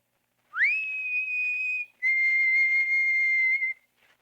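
A person leaning out of a window whistles softly again, a short upward slide into a held clear tone, then a second longer steady note slightly lower in pitch, close against silence.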